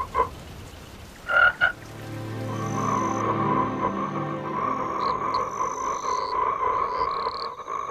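Cartoon toads croak in a valley: a few short croaks open, then a sustained chorus of warbling, droning croaks carries on with chirpy calls layered on top, and no speech is heard.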